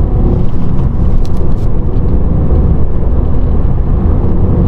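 Ford Fiesta 1-litre EcoBoost engine pulling hard in second gear, a loud, dense and steady engine roar heard from inside the car with no break.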